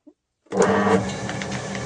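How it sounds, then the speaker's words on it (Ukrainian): A ROTEX-100 granulator switched on by a button: after a brief silence it starts abruptly into a steady close mechanical whir and rattle that keeps running evenly. "запускати в роботу гранулятор"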